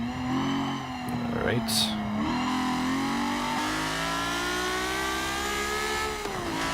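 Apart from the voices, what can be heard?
car engine revving to 9,000 RPM in video game Forza Motorsport 7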